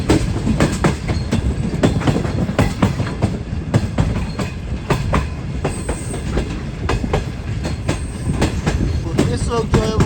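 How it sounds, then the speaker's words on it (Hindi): The Shah Hussain Express rolls into Bahawalpur on its Karachi to Lahore run, wheels clattering over rail joints in steady bursts under a continuous loud rumble of the moving train. "नवाबों के शहर में हमारी ट्रेन एंटर हो चुकी है, यानी कि भावलपुर में।"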